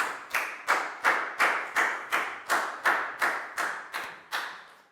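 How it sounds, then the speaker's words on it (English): A Year 4 math class gives a round of applause: a steady series of about a dozen sharp, evenly spaced claps, each fading quickly, loud and close with no talk over them. "a big round of applause for Pak Bung, please, guys."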